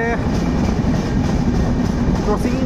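Close by at a level crossing among rice and maize fields, a goods train keeps up an unbroken rolling roar and clickety wheel rattle, with a voice speaking briefly over the noise.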